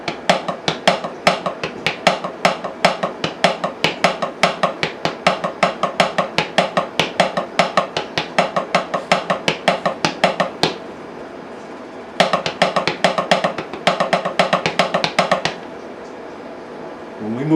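Drumsticks on a practice surface play a fast, steady pattern of loud accented right-hand strokes alternating with soft ghosted left-hand taps, sharp and close, pausing briefly before resuming, then stopping.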